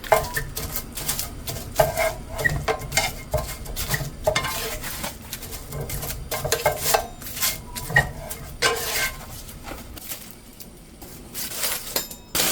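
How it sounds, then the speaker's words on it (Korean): Dried laver (seaweed) sheets rustling and scraping under a spatula, with repeated crisp swishing strokes and light clatter at an irregular rhythm, close and fairly loud. "마른 종이 바스락거리는 소리가 나요."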